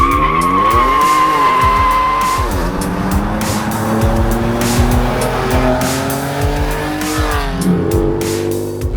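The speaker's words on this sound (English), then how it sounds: "It's making those sounds and making the tires screech." A tuned 600 HP Ford Ranger Raptor squeals its tires loudly and close, long screeches sliding in pitch over a revving engine, then a second burst of squeal near the end.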